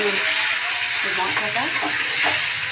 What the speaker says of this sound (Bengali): ভালোভাবে আগে কষিয়ে নিই